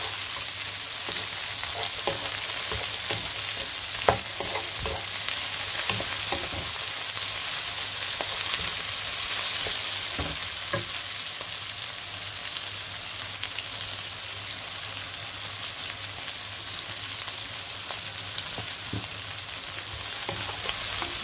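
Chopped onions fry in oil in a pan for aloo pulao, a dense, steady sizzle with a faint crackle running unbroken throughout. No one speaks.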